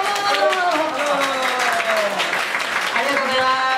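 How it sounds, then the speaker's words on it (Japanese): Applause from the audience at a community meetup for a Chofu Facebook group, with clapping spread steadily across the room and tonal chatter or voices layered over it throughout. "もうちょっと拍手いただきたいですよね。"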